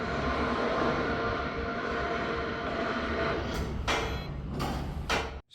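A micro-tunneling boring machine (M-TBM) with its pipe system moves along steadily, making a loud, continuous mechanical rumble, with a few sharper metallic knocks near the end.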